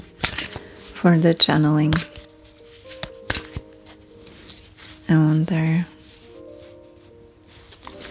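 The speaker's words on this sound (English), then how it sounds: "I'm just shuffling the cards" Cards being shuffled in quick, crisp riffling bursts, with a voice speaking softly between and over the shuffles.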